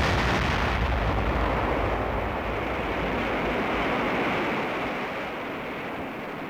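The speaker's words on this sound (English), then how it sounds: "Rocket away." An army rocket launching: a loud, sustained roaring rumble that holds steady and then slowly fades as the rocket climbs away, with no voices.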